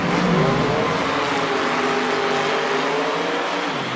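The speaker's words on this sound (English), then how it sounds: "The engines are roaring" A field of Formula One race cars at the start of the British Grand Prix at Aintree, engines roaring together in a dense, steady wall of sound with rising whining tones, loud and continuous.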